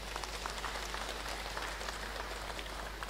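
A church congregation applauds steadily, a dense even patter of many hands clapping throughout, moderately loud and distant-sounding.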